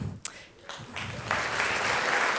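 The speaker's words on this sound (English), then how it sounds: "I need you guys to give them a really, really big applause" After a few scattered claps, applause from a conference audience builds quickly into full, sustained clapping at a welcome session.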